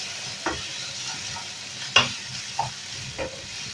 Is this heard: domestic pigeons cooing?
no